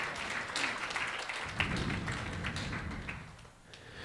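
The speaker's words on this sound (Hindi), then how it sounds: "फिर से ताली बजाओ सारे मदर्स के लिए" An audience claps steadily and warmly for mothers at a church gathering, a continuous wash of many hands that swells slightly and then tapers off near the end.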